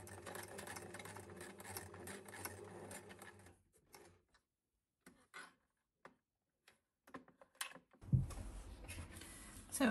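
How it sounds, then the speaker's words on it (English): A sewing machine stitching around the edge of a felt and fabric key ring runs steadily and close for a few seconds, then stops, leaving quiet broken by small handling clicks before a louder burst of machine noise returns. "taken to the sew machine and sew all around the edge"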